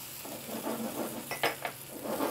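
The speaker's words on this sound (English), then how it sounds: "And that's where we're going to add the cream in now." Cream poured into a marsala sauce in a pan and stirred, giving a soft steady sizzle with a few sharper clinks of a utensil against the pan near the end.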